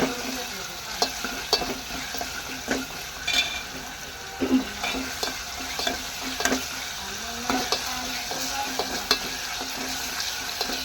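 Ginger-garlic paste tempered in hot oil crackles and sizzles steadily while a spoon scrapes and stirs in repeated quick strokes, close-up and without speech.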